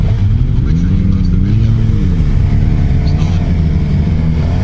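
A 2015 Suzuki GSX-R750 sport bike launches hard at around 12,000 rpm with the clutch dumped, its engine roaring loud and close with a steady rising-and-falling drone under heavy wind buffeting.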